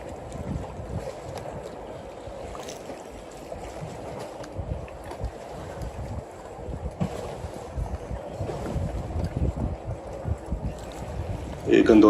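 A gondola glides along a canal in Venice, Italy, with a steady low rumble of water and wind buffeting the microphone all the way through, and a sharp knock right at the end.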